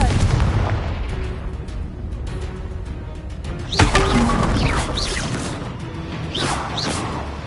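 A Confringo fire spell cast in a Hogwarts wizarding video game bursts with one sharp explosive boom, followed by swooshing sweeps over a dense, rumbling game soundscape.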